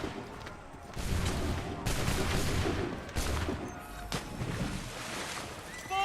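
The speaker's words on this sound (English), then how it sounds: "Open fire." Volley of musket gunfire in Assassin's Creed 3 battle: dense, sustained crackling of many shots blending into a loud rumbling fusillade, with heavier blasts punctuating the din.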